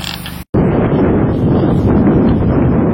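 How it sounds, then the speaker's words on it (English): Strong outdoor wind buffeting the microphone, a loud, dense rumbling roar that cuts out briefly near the start, then returns and continues steadily. "Kind of windy right now."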